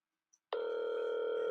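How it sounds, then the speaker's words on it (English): An outgoing phone call produces a single steady electronic ringing tone that switches on abruptly after a moment of near silence and holds clear and level. "let me call him right now"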